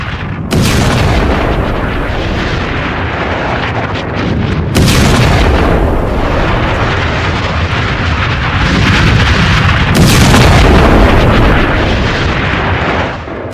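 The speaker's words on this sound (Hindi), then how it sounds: "इजराइल ने जो टनल है, सुरंग, उसमें धमाका करके उसे उड़ा दिया है, वो तस्वीर है" Israeli forces blow up a tunnel in Gaza news footage, producing very loud, continuous roaring blasts with several sharp renewed booms every few seconds, dense and close.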